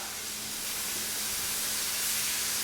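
Vegetables and meat sautéing in a pan for carne guisada give off a steady, loud sizzling hiss that stays constant without a break.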